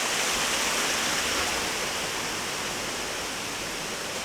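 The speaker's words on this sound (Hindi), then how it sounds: "हम वाटरफॉल के साथ साथ चल रहे हैं।" Ramboda waterfall in Nuwara Eliya roars as a constant, dense, loud rush of falling water, steady and close, with no voices.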